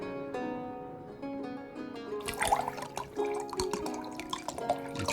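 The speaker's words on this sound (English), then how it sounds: "We need to pour it slowly." Wine poured into a cup in the video game Card Shark: after a couple of seconds of steady background music, a bright, splashy trickle of liquid begins and runs on under the melody, with little drips toward the end.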